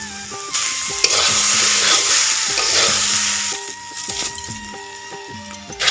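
Chickpeas stirred in a pan with salt and turmeric, a close, steady scraping and sizzle with repeated rhythmic stirring strokes throughout.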